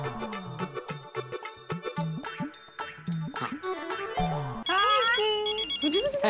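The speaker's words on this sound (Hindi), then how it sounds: "भिड़े का फोन है" A phone ringtone plays as a melodic electronic tune over background music, loud and close, repeating its short phrase.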